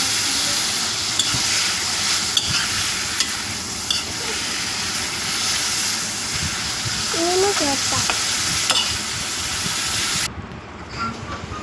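Ridge gourd peel fries with tamarind for chutney, giving a continuous close sizzle with scattered stirring scrapes and clinks; the sizzle drops abruptly near the end, and no one speaks.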